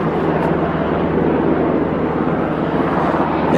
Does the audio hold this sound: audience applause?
no